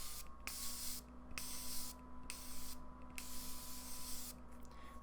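A setting-spray bottle with a slightly faulty nozzle mists in five quick hissing bursts at an even pace, close and faint over a quiet background, with no talk.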